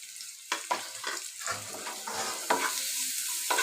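Arum (maan kochu) curry with salt, chili powder, turmeric and ginger-garlic paste is stirred in a pan: repeated scraping strokes over a low, rising sizzle, close and fairly clear.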